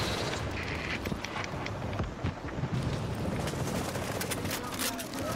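Gunfire in The Division, a dense run of shots and bursts layered with a boom, close and loud, with people talking over the action throughout.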